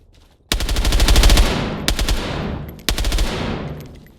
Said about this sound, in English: He's taking shots from somebody though.